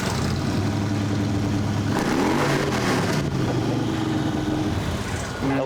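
A custom motorcycle engine running loud and close, a rough steady idle that rises into a revving surge midway before settling back down.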